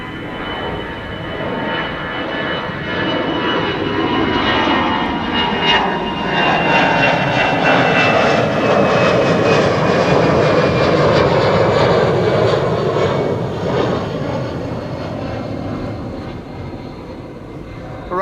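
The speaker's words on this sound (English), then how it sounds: "the second C-17 is approaching" A Boeing C-17 military transport aircraft approaches, its engines building from a steady whine into a loud, near roar with a faint descending tone, swelling through the middle and easing slightly toward the end.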